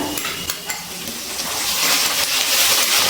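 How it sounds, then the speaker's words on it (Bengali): Ginger and green chili paste hits fried potatoes in a pan, giving a loud, steady sizzle that builds and brightens over a few seconds, with a few spoon scrapes and clinks near the start. "এবারে এর মধ্যে দিয়ে দিচ্ছি আদা আর কাঁচা লঙ্কা বাটা"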